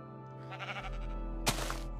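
A sheep bleats in the video game Minecraft. A short, wavering bleat sounds clearly in the foreground, and a second, brighter bleat follows, over a low steady background hum.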